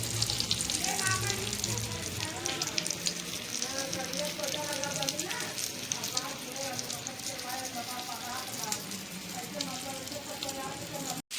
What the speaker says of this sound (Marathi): आणि दुसऱ्या साईडने भाजून घेऊया